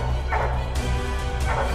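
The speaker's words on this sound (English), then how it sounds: "you can hear Lizzie treeing right in there" Coonhound Lizzie barking while treeing a raccoon in a swamp, a few loud, drawn-out bays rising over steady outdoor background noise.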